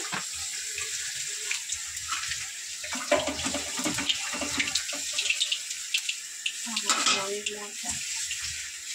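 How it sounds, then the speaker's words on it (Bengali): Black cumin seeds sizzling as they hit fish-frying oil in a Bengali kitchen, a bright crackling hiss with bursts of spatter and clinks, fairly close and steady throughout. "এই মাছ ভাজার তেলে কালো জিরে দিয়ে দিলাম"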